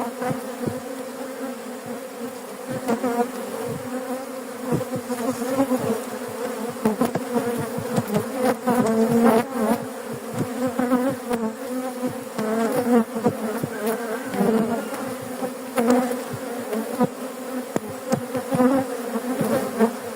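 A dense, steady drone of many honeybees buzzing close by in a hive, swelling and fading in waves for the whole stretch, with no talking.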